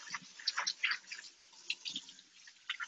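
Pumpkin seeds being rinsed under running water, with soft irregular splashes and drips close by in a quiet room and no talk.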